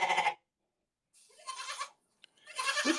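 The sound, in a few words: person imitating a goat bleating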